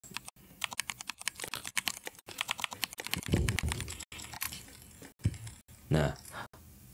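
Rapid keystrokes on a computer keyboard at a Windows PC. A fast run of close clicks is briefly joined by a couple of louder soft bursts of other sound.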